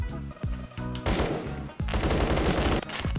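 Rapid automatic fire from an AK-12 rifle in Phantom Forces on Xbox One, loud fast bursts with brief pauses between them, close and sharp, no talking.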